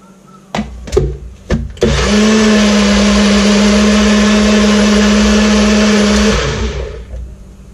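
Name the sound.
blender mixing sauce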